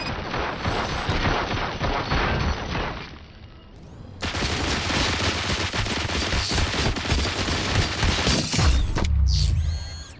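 Rapid gunfire in the RoboCop Rogue City video game, dense bursts of automatic shots and impacts that drop briefly, then surge back loud and sustained before a sharp final clatter.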